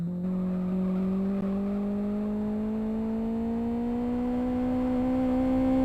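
A touring race car drives through the last corner of a circuit in an STD Championship race, a steady engine drone with a slowly rising pitch that holds for several seconds, heard from a distance with no talk.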